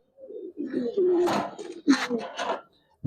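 Pigeons coo at a farm selling high flyer, Budapest, racer and fancy breeds, with several low throaty calls close by and a voice talking over them.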